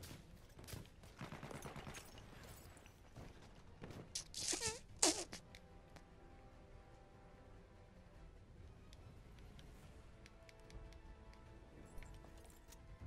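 Gunfire in Battlefield 1 multiplayer, quick bursts of shots and rattling automatic fire in the first half, then fading into a quieter, tonal game soundscape, all faint.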